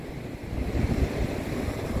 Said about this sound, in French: Regardez, on est sur la plage.